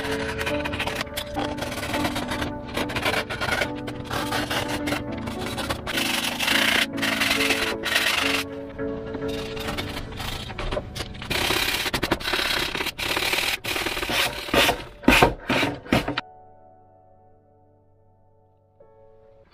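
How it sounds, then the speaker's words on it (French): Hand sanding of wooden parts for an RC Pitts biplane model, repeated loud rubbing strokes in uneven bursts that stop near the end, leaving near silence. "j'ai poncé toutes les parties à poncer"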